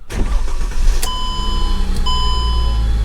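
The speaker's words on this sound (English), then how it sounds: "Let's see if the car gonna start." Mercedes W209 engine cranking and firing up, a loud start followed by a steady close idle with a high electrical whine running alongside.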